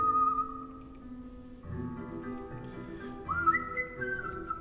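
Someone whistles a tune on stage at a competition in North Carolina, clear sustained notes with slides and pitch shifts over a faint low hum of room noise.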